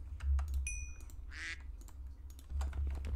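A single short nasal honk from a goose in a Minecraft-style video game rings out once, set among soft computer keyboard clicks and low background thumps.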